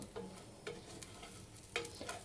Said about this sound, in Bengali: আরও ভালো করে চালটাকে কিছুক্ষণ ভেজে নিব